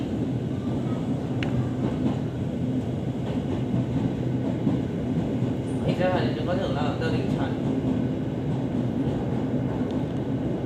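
An SRT Red Line electric commuter train runs between stations in Bangkok, with a continuous rumbling cabin roar and faint rail clatter throughout while someone talks over it.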